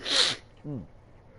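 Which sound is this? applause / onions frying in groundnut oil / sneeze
sneeze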